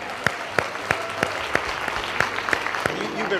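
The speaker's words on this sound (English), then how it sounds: "I do want to give a round of applause for everyone who is involved tonight." An audience at an annual founders day awards celebration breaks into applause, a steady patter of clapping from a room full of people without cheering or speech.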